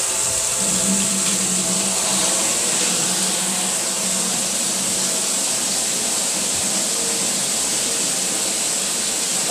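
Water runs steadily from an outlet to bleed down pressure in a pump motor's tank, a continuous broadband rush with a low mechanical hum beneath it, loud and close and unbroken throughout.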